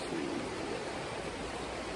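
High water rushing along the Trinity River, a constant broadband roar of flowing water, steady and close with no other sounds.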